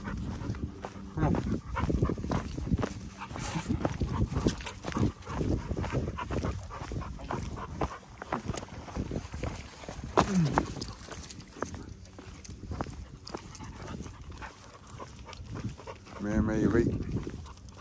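A pit bull and a golden retriever growling, panting and scuffling with brief yelps, near and fairly loud, with people talking and shouting over them throughout.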